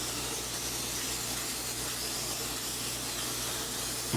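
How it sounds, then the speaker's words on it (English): A steady, broad hiss of butter-flavored aerosol cooking spray coating a casserole dish runs unbroken for several seconds, with a low hum beneath it. "Get your butter spray and spray your casserole dish."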